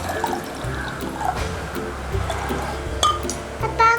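Orange juice is poured into a cup as a continuous close gurgling trickle, with a few faint clinks near the end.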